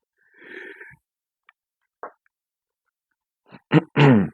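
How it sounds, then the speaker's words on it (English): A man yawns during an indoor toy review, a few faint rustles and clicks leading into a drawn-out, breathy voiced yawn close to the microphone at the end. "Sorry, I don't mean to yawn."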